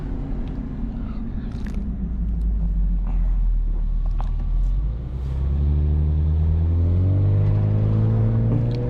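Chevy Camaro convertible cruising with the top down, a steady low engine rumble and road noise with rising revs near the end, no talk.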